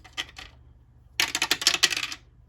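A blue die clatters on a hard surface during a cash-stuffing game night, first with a few short clicks and then with a longer burst of rattling bounces, close and without voices.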